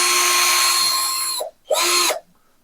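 A Ralli Wolf cordless drill spins at speed 2 in drilling mode with a loud, steady high whine for about a second and a half. After a brief pause it gives a second, shorter burst before stopping.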